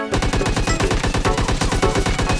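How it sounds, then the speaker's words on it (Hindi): Rapid bursts of automatic gunfire in a team-up multiplayer shooter game, loud and continuous with a steady rattling rhythm throughout, no talking. "इधर से फायरिंग आती है इस पीले करके।"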